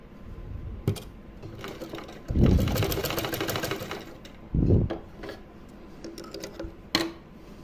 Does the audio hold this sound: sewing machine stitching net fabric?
yes